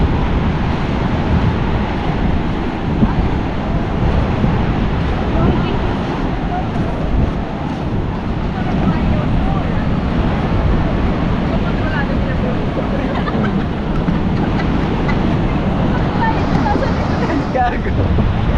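Steady roar of ocean surf with wind rushing over it at night in Siargao, Philippines, continuous and fairly loud throughout, no distinct break in the wash.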